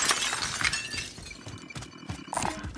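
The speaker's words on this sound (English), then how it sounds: "did I hear glass break?" Glass shatters in the Warzone video game, a sharp crash followed by several scattered tinkling bursts of breaking shards over background game noise.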